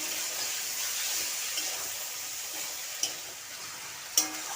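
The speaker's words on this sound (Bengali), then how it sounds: "এবার টক দইয়ের সঙ্গে বিনসগুলি ভালোভাবে ভেজে নেব" Green beans fry with homemade sour yogurt and spices in a pan, giving a soft, even hiss of sizzling oil with two brief clicks of a utensil near the end.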